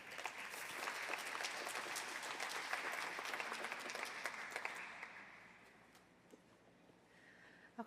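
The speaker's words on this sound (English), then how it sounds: "please join me in a round of applause for all of our speakers today" Sustained audience applause for speakers at a university Age-Friendly event fills the room, dense and steady, then thins out and fades to scattered claps near the end.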